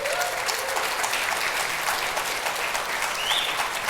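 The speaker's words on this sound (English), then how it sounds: "I want you guys to give a big round of applause to these guys" An audience breaks into steady, dense applause at a sales training event on objection handling and negotiating, a sustained wash of clapping with faint whistles and voices mixed in, holding at an even level throughout.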